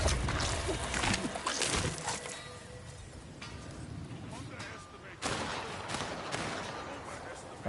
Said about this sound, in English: You can hear the gunfire, so they're training the guns at the minute.